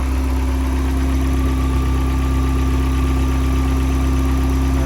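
A Ford Sierra Sapphire RS Cosworth engine idles steadily at close range, a constant low rumble with a hum that holds unchanged from start to finish, with no voices over it.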